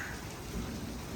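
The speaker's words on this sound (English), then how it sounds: "It's decided that it wanted to start raining." Rain falls outdoors beside a 1973-87 Chevrolet C10 pickup, a steady broadband hiss with a low rumble, continuous and even, with no voices.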